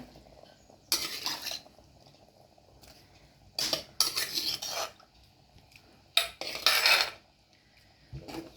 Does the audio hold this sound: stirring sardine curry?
yes